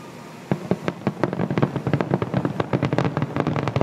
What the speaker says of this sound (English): I keep hearing more explosions.